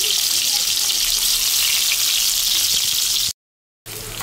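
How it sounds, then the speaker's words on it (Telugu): Chopped onion frying in oil with green chilli masala in a pan, giving a steady close hiss that runs without a break, then cuts out briefly and resumes. "ముందుగా పచ్చిమిర్చి మసాలా దింట్లో వేగేటప్పుడే కట్ చేసుకున్న ఒక ఆనియన్ అయితే వేసుకోవాలి"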